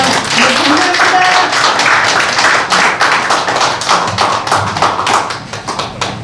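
Audience applause at a Korean political forum launching an election-monitoring network, dense broadband clapping sustained throughout, loud and close, gradually thinning toward the end with a brief tonal voice early on.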